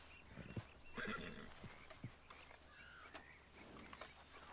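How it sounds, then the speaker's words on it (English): A Kentucky Saddler horse in the Red Dead Redemption 2 video game whinnies and snorts loudly, with scattered hoof clops and faint ambient bird sounds around it. "This is a beautiful horse, by the way."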